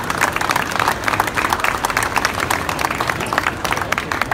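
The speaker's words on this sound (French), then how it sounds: "je vous demande de les applaudir parce qu'on est très fiers d'eux" Audience applause at an agriculture fair, many hands clapping briskly with individual claps standing out, loud and fairly close, holding steady throughout.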